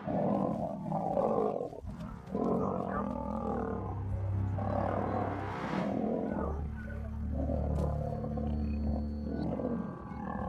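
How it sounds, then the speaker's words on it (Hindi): Lions fight in the wild with deep, rough roars and growls in overlapping bursts, loud and close, with low rumbling tones running throughout. "उनके दहाड़ने की आवाजें दिल दहला देने वाली थीं।"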